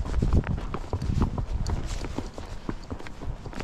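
A Tennessee Walking Horse walks briskly along a mountain trail, its close, steady hoofbeats clip-clopping in a quick, even rhythm, with faint rustling around it.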